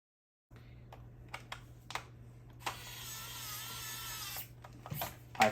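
A power screwdriver drives screws into an Elite 2.0 Trailblazer blaster: faint clicks and handling knocks, then a sustained, quiet motor whir lasting about two seconds before it stops.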